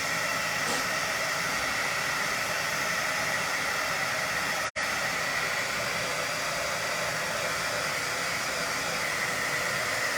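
A hair dryer blows steadily on wet paint and glue in a kitchen, its constant loud whooshing airflow filling the scene, with one momentary cut-out about halfway through.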